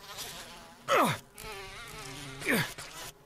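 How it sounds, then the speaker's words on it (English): Bees in the Resident Evil video game buzz in two loud, swooping passes with a descending drone, over a steady low insect hum. "these bees. Can I just get some bug spray or something?"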